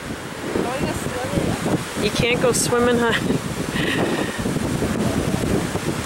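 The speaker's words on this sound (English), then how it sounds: "It's quite windy down here." Strong wind buffets the microphone over crashing surf on a closed south-shore beach as Hurricane Gonzalo approaches, a constant loud rush with a person talking briefly over it.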